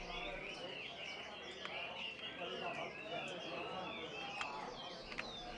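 Caged pet birds in China chirp and trill in a steady, busy chorus of overlapping high calls, with a few sharper tweets standing out, heard at moderate distance over a faint background murmur.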